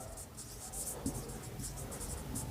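Pen writing out a quadratic equation solution by hand during a Class 10 maths exam-paper lesson, a steady scratchy scribble of short strokes, close and quiet, with no talk over it.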